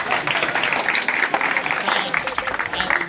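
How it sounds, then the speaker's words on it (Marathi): An audience at a gathering bursts into brisk, close clapping that stays strong throughout, with voices mixed in over the applause. "वाजवा टाळ्या."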